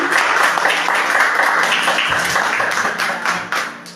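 Church congregation applauding together during a worship service, a dense steady wash of clapping that stays loud throughout and tapers slightly near the end.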